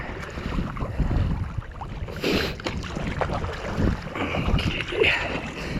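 A kayak paddled with following waves at its back, water sloshing and splashing around the hull in uneven surges, wind buffeting the microphone and rustling over the sound, close and moderately loud.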